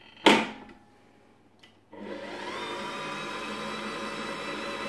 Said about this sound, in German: Ich lasse die Maschine erstmal kurz anlaufen auf niedrigerer Stufe